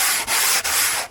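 Sandpaper rubs rapidly back and forth across an XPS foam self-draining deck on an outrigger float, three continuous loud scratchy strokes separated by brief pauses.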